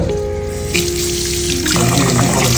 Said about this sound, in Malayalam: അരി ഒന്ന് കഴുകുക